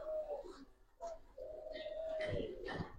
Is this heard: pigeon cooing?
yes